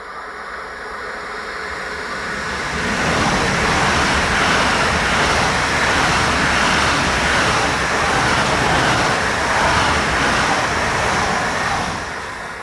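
An Intercity Express train in Germany roars past nearby, its broadband rumble swelling over a few seconds, holding steady and loud, then easing slightly at the end.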